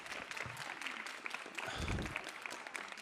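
An audience at an inter-municipality debate claps in a faint, distant patter that swells slightly toward the middle and lasts about three seconds, with no voices over it.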